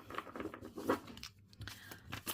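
Soft, papery riffling and slapping of shuffled tarot cards, a continuous crinkly rustle with small irregular flicks close to the listener.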